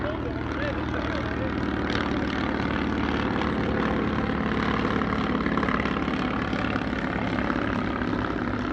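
A 1912 unarmed propeller aircraft adopted by the prewar French military flies at the 2022 Meaux airshow, giving a loud, steady engine drone with a rough buzzing edge that holds throughout.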